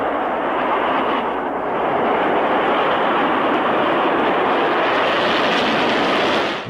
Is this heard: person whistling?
no